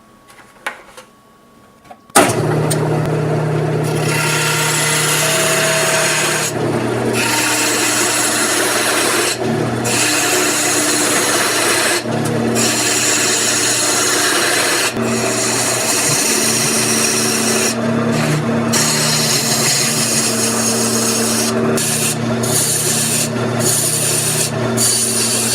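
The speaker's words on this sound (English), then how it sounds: "I'm going to be turning this at 2000 RPM, and I'm going to just turn it round with my 1/2 inch bowl gouge." Maple wood spinning on a lathe at 2000 RPM under a half-inch bowl gouge: after a brief quiet start, a loud continuous scraping hum with a steady motor tone fills the rest, with small dips in the cutting.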